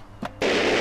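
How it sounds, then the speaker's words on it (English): Firework going off in the video game Goat Simulator on Xbox One: a short thin whoosh followed by a sudden loud crackling burst that sustains to the end. "Oh, there's a firework right there."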